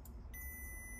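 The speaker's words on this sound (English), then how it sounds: "you can hear my multimeter just working there when I open the micro switch." A multimeter gives a faint, thin continuity beep, starting a moment in and holding steady, while a microswitch on a 2002 Mercedes CLK W208 soft top is tested. Low rumbling background noise sits underneath.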